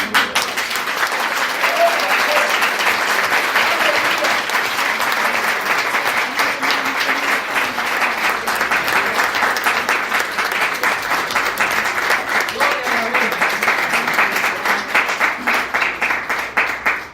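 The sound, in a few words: congregation applauding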